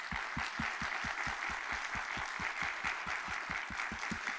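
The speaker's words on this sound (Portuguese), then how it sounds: "dar uma salva de palmas" A church congregation applauds the pastor with sustained clapping, and deep regular thumps beat a steady rhythm beneath it.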